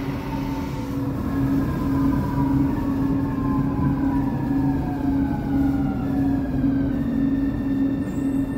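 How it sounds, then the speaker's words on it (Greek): A Thessaloniki metro train running between stations, a steady loud rumble with a constant hum and gliding whine tones from the motors, heard from inside the carriage. "Βρισκόμαστε μέσα στο μετρό Θεσσαλονίκης."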